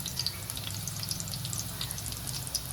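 Onions and garlic sizzle and crackle steadily in a hot pan while browning for a spicy fish curry, a close, continuous frying hiss with no talk.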